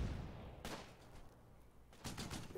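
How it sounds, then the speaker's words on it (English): Gunfire in the World War II strategy game Close Combat: Battle for Caen, quiet, distant-sounding bursts of small-arms fire with two sharper volleys over a low rumbling background. "Some nice gunfire there."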